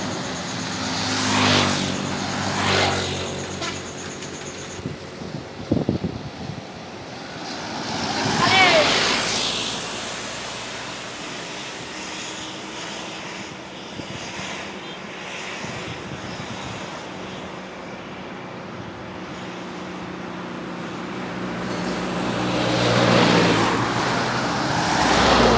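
A Halmahera bus engine and passing roadway traffic swell and fade at a distance, with several vehicles going by over a steady background hum.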